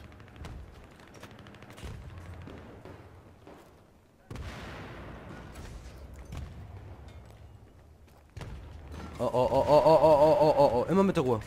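Gunfire in the video game Battlefield 3 crackles in scattered bursts under German chatter, ending in a louder, rapid burst of shots.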